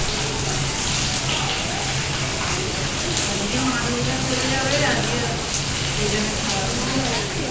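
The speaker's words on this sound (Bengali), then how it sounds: "It's weird, but I am enjoying the rain." Steady rain falls in Puri near Swargadwar and the beach, a dense, even wash of patter lasting the whole stretch, with faint voices and background murmur underneath.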